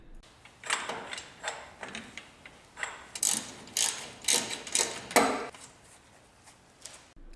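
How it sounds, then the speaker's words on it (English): A ratchet fitted with a jack handle as a breaker bar clicks in a run of sharp, quick bursts while loosening rust-seized strut nuts on a 4th-gen 4Runner, close and alone without talk. "My go-to breaker bar, it's a jack handle on a ratchet."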